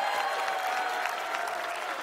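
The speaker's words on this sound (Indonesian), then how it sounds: "Kita kasih tepuk tangan." Studio audience at a comedy roast breaks into steady, even clapping that fills the whole moment without a break.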